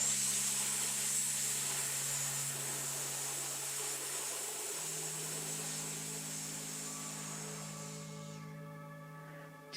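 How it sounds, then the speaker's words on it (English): A long, steady hissing yoga exhale from the lower belly, breathy and soft, gradually fading over several seconds before ending abruptly. "And exhale with that hissing sound from the lower belly."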